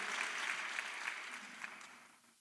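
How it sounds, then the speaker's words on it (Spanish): Church congregation applauding: a broad wash of clapping from a crowd in the hall that is steady at first, then thins and fades toward the end. "Dale ese aplauso al Señor."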